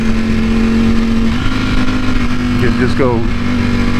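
Ducati V4 motorcycle engine droning steadily at close range, its pitch rising and falling as gears change with a quickshifter, with a rider talking over it.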